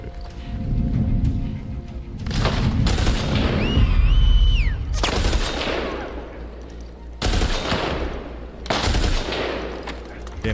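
Bursts of automatic gunfire from The Last of Us Part II, loud and close, coming in several heavy volleys separated by short gaps, with game effects and rumble between them.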